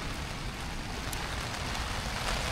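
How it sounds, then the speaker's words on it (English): Heavy torrential rain drums steadily on a hot tent, a dense continuous hiss and patter that stays loud and even throughout with no voices. "listening to the rain, listening to the rain outside"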